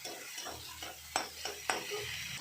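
Onion and tomato in a pan being stirred, with soft frying hiss under a few sharp clacks of the spoon against the pan, close and fairly quiet.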